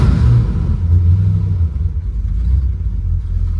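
The engine of a 1967 Dodge Coronet runs roughly and won't idle properly, producing a loud, close, uneven low rumble that surges and sags throughout without any speech.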